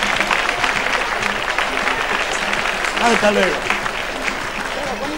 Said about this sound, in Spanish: un aplauso para usted